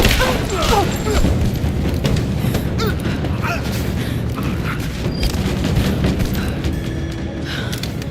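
Loud, continuous gunfire and booming explosions fill a combat scene in the video game Rise of the Tomb Raider on Extreme Survivor difficulty, a dense rumbling roar with sharper bursts and in-game voices shouting over it.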